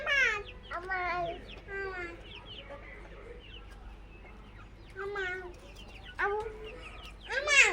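Several chickens cluck and squawk in repeated bursts at moderate distance, with a voice and other talk heard between the calls.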